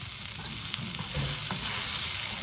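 Dried red chillies and cumin seeds fry in hot oil in a pan, giving a steady close sizzle with a few soft stirring scrapes, and no one speaks.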